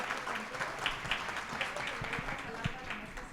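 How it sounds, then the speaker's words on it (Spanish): Audience applause welcoming a speaker at a formal education event: steady, moderately faint clapping from a crowd, sustained across the whole moment with a few louder individual claps. "a quien les pido le podamos recibir con un cálido aplauso"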